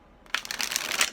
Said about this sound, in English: One more, and then a little bit extra shuffling